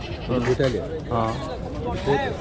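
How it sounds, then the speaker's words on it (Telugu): Rams bleat at a crowded Bakrid sheep market, with several wavering, close bleats in quick succession amid background chatter from the crowd. "ఇది గొర్రె పొట్టేలు"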